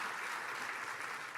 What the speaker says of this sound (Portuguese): Palmas para o José